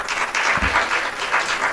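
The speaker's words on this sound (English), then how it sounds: "Come on, give yourself a big clap" An audience at an inaugural ceremony claps in a dense, even wash of applause that holds steady for the whole short stretch.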